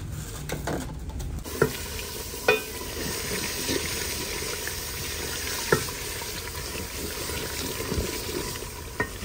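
Beef frying in a pot while it browns gives a steady, close sizzle, with a few sharp knocks of a stirring spoon against the metal scattered through it.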